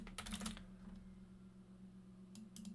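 Brief bursts of keystrokes on a computer keyboard while configuring network equipment in a lab, a quick cluster of clicks at the start and another at the end, quiet and close over a low electrical hum.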